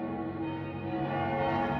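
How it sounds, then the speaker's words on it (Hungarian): Church bells ring in a steady, sustained peal that swells slightly, fairly loud and continuous with no voices over it. "ilyen erős harang szóra van ez a bejelentés"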